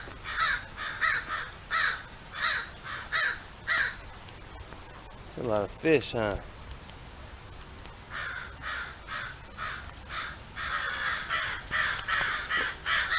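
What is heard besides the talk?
crows cawing by an inner city creek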